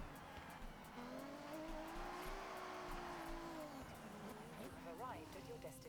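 A car in a Forza Horizon video game revs with a rising, sustained engine tone and ends in a brief tire squeal, heard quietly beneath a person's speech.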